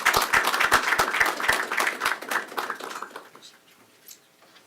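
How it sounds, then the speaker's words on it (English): An audience at a national defense policy event claps for several seconds, the applause strong at first, then tapering off into near silence with a few scattered claps. "round of applause"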